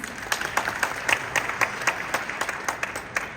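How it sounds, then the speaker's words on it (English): An audience at an India Day anniversary celebration in Edmonton claps steadily, with scattered individual claps standing out as sharp, regular hits over a soft crowd wash. "a big round of applause for these girls, please"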